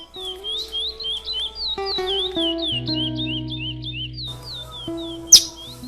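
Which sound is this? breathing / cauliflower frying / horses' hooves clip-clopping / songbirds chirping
songbirds chirping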